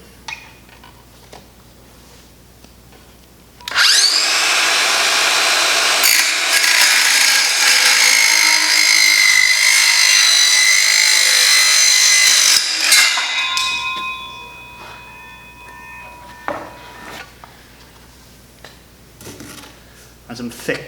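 A multi-material circular saw cuts through alkathene plastic pipe, a loud, steady whining buzz lasting about ten seconds before spinning down, with scattered handling knocks before and after.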